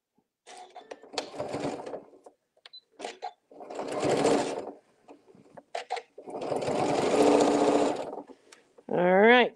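A sewing machine stitches a quilted table mat in bursts, three main runs of whirring separated by pauses with short clicks between them, close and clear.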